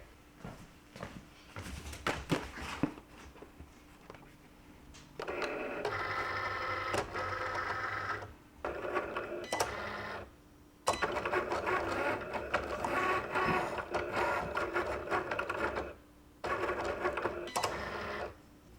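A Cricut cutting machine cuts a full sticker sheet, running in several bursts of whirring motor and carriage movement separated by brief clicks and pauses, steady and close with no talk.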